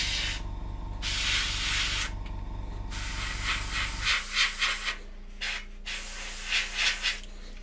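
Bursts of spray paint hiss onto a 1/72 Airfix Vulcan model kit, long steady blasts followed by shorter pulsed puffs, close up with a low hum in the background and no speech.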